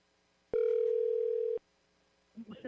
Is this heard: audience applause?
no